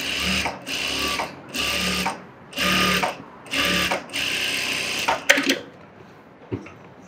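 A sewing machine stitches an edge seam in about six short, loud bursts of rapid motor whir separated by pauses, ending with a few clicks and handling sounds.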